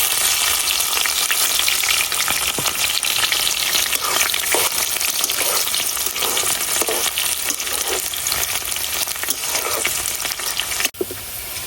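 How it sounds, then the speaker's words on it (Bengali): Onions fry in oil in a pan with bay leaves, giving a loud, continuous crackling sizzle and a brief clatter near the end. "পেঁয়াজগুলো সুন্দর করে ভাজা হয়ে গেছে"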